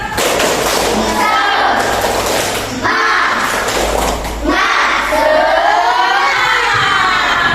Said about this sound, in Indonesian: Mari kita tepuk semangat dulu ya, biar semangat nih.